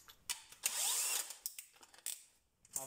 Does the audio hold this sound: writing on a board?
no